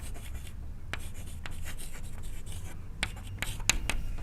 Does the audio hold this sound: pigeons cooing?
no